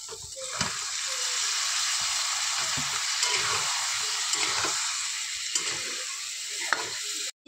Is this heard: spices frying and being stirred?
yes